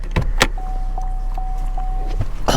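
Car power window motor whirring steadily for about two seconds in a used car, with a faint thump at the start and at the finish.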